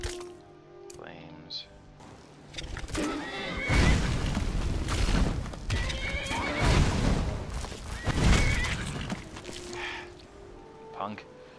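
A horse in Skyrim whinnies and snorts amid game sounds, loud bursts and rumbling impacts rising through the middle, with people talking over it.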